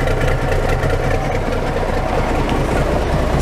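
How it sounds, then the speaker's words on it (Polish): An old, purely mechanical heavy diesel truck engine idles steadily and evenly, a loud continuous low rumble with a slight knocking texture and no voices. "Ten silnik po prostu pracuje równo."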